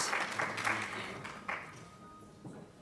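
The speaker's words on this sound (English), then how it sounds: "a big round of applause to our amazing partners of tonight" An audience at an evening peace symposium gives a short burst of clapping for the event's partners, several distinct claps early that thin out and fade within a few seconds.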